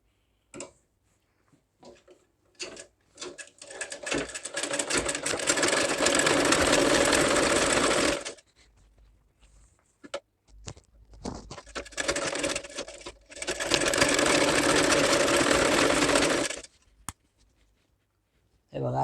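Domestic sewing machine stitching a 40-inch blouse during finishing, running in two long steady bursts of several seconds each, separated by short pauses with light handling clicks.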